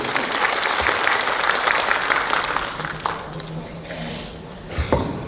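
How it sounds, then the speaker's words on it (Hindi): Strong audience applause at a public event, dense clapping rising loudly and then thinning out toward the end as a voice begins to come through. "चलिए और एक बार जोरदार तालियां हो जाना चाहिए प्लीज"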